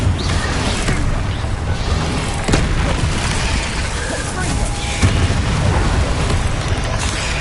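Confringo fire spell explosions in the Hogwarts Legacy video game, a dense run of booming blasts and bursts layered with game effects and music, loud and continuous throughout.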